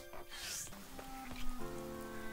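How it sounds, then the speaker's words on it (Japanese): Rain in the farming role-playing video game Harvestella falls as a faint, steady hiss of drops, alongside soft sustained musical tones. "雨"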